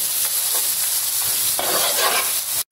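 Chili powder being stirred into beef pickle frying in a pan, a close, continuous sizzle with scraping stir strokes that swell midway, ending in a brief cutoff.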